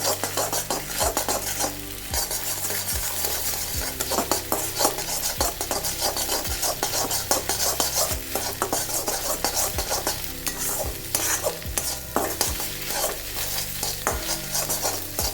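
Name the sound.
stirring and frying egg in pan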